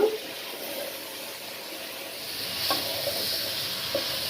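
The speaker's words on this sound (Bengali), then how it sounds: "সুন্দর করে পটলটা নাড়ছে, দেখো" Pointed gourd and potato are stirred in a frying pan for a hilsa fish curry, with a steady close sizzle and hiss, soft scraping and an occasional light clink.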